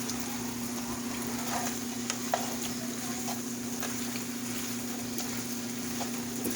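Onion and pineapple juice sauce simmering down in a pan, a steady low sizzle and bubbling that runs evenly throughout with faint occasional ticks, no talking.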